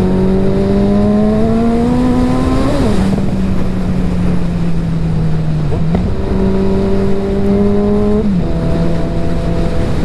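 A Suzuki Hayabusa motorcycle engine drones loudly and close while riding, its pitch rising through each gear, then dropping at the shifts, with wind roar underneath and no speech.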